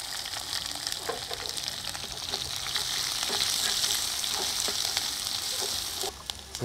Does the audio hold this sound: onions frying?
yes